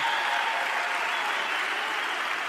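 Sustained applause and cheering from the crowd at a men's beach volleyball King of the Court knockout event in Hamburg, dense and steady throughout with no pauses.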